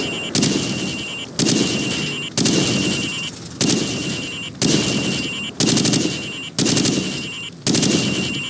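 Rapid automatic gunfire from a Call of Duty 4: Modern Warfare firing range as targets are shot, heard as about eight loud, close bursts repeating roughly once a second, each followed by a short decay.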